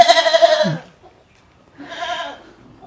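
A goat bleats twice in a farmyard, a loud, drawn-out cry followed after a short pause by a second, somewhat softer bleat, close by with no talking.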